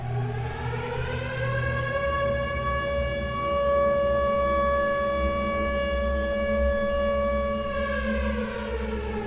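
A siren wails steadily for the whole stretch, a loud sustained rising-and-holding tone with rich harmonics, rumbling low background underneath.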